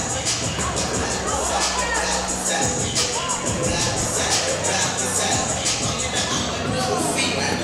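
Crowd noise fills a gym at a high school girls basketball game, a continuous babble and shuffle of many people with a voice talking over it.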